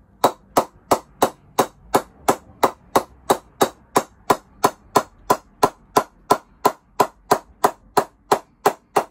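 A mallet strikes a brand-new CP custom cricket bat in a fast, even series of about two dozen loud, crisp wooden pings, close up and with no talking.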